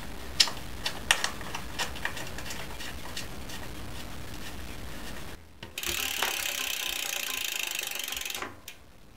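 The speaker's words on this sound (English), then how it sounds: "Chuck some bolts in, and we should have a back brake on this bike." Bolts being fitted to a bicycle rear brake caliper, with quiet clicking and ratcheting taps in a steady series, then a brief burst of brighter mechanical whirring near the end.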